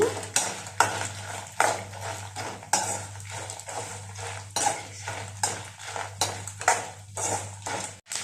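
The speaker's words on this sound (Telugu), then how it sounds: "ఇవన్నీ స్లో ఫ్లేమ్లో వేయించుకోవాలండి" Peanuts frying over a slow flame for a raw mango peanut chutney, with a steady low sizzle broken by repeated rhythmic scrapes and stirs of a utensil against the pan.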